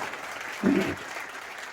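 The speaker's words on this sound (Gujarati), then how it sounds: "સ્વામીને પણ તાળીઓના નાદથી વધાવો બધા" A temple-festival audience claps in a short, muffled burst of applause lasting under half a second, set against a quiet hall.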